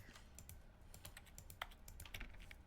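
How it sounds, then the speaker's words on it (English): Soft, rapid keyboard clicks in The Stanley Parable's employee lounge form a steady, quiet typing patter with a few sharper taps, and no one talks. "Like, it sounds like typing, doesn't it?"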